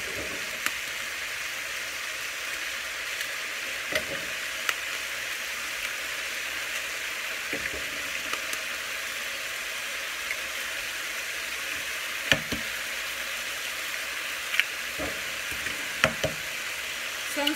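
Eggs fry in a pan with stewed green beans, giving a steady, fairly quiet sizzle broken by occasional utensil knocks and stirring, with no talking.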